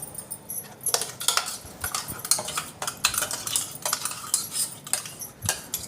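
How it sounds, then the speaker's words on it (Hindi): A spoon scrapes and clinks against a kadai while fried masala paste is stirred, producing repeated sharp metallic scraping strokes at close range with no talking. "और इस पेस्ट को चलाते रहना है"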